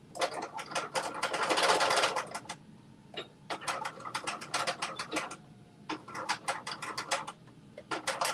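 A home sewing machine stitches a jumpsuit seam in several short bursts separated by brief pauses, with a steady mechanical ticking and whir, moderately close and clear.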